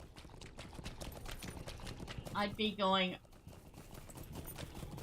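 Horses gallop with a steady clip-clop of hooves in Lord of the Rings Online during an attack on Dannenglor, running under continuous talk, with a brief louder burst in the middle.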